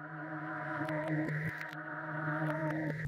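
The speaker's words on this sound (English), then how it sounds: "on the arcade phrase I literally took it and reversed it" A buzzy reversed synth phrase for UK drill, with swelling, backward-sounding notes and a droning low tone, plus brief clicking accents scattered through it.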